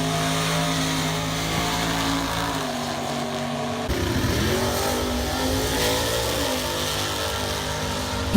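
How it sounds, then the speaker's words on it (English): Drag racing cars, including a Mercedes E63 AMG wagon, an Audi R8 and a Porsche 911, roar as they accelerate hard, loud engine noise rising in pitch with a sharp shift midway, continuous and close. "Here's an example of what some of these cars did when they actually raced."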